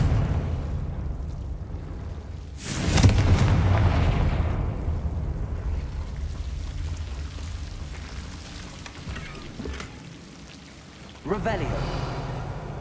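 Confringo fire spell blasts in Hogwarts Legacy: a loud broadband explosion bursts in near 3 seconds and rumbles away, with another blast starting near the end over a low ambient game bed.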